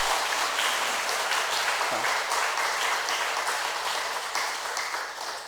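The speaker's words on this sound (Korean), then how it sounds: "박수 한번 보내주십시오." Sustained applause from a large audience at a church gathering for a visiting film director, steady dense clapping filling the whole stretch and tapering slightly at the end.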